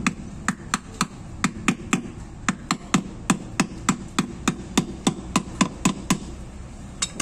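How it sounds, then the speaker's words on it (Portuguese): Steady series of sharp metallic taps from a small sledgehammer on a wheel hub of a JCB 3C backhoe loader, about three per second, evenly spaced and close, with no talking. "É bom ter um martelinho ou uma marreta, tá? Uma marretinha. Só para dar umas pancadinhas"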